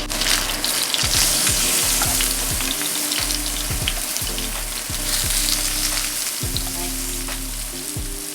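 A salmon fillet sears in a hot pan after being flipped, producing a loud, continuous sizzle with low pan rumble and scattered clatter.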